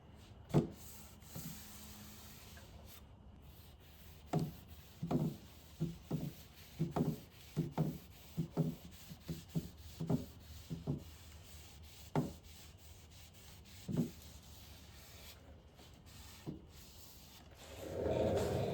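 Wood conditioner is rubbed by hand onto maple veneer on a furniture piece, making soft, close scrubbing strokes in an uneven rhythm, quiet and alone, ending in a brief louder rustle.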